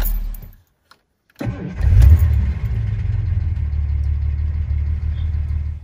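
A 1975 Jaguar XJ6 engine cranks after a brief silence, catches and settles into a loud, steady running rumble close by, with no misfire and no talking.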